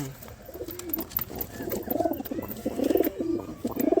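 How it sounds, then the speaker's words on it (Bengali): A female pigeon coos in the low, rolling manner of a male, with repeated throaty coo phrases close by, rising and falling in steady bursts without any talking. "মাদি পায়রা, কিন্তু পুরো নরের মতো ডাকছে"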